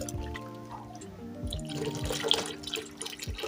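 Water being poured gradually into a large pot while making a homemade hair conditioner, giving a steady splashing and trickling with scattered drips, soft and continuous at close range, with no talk.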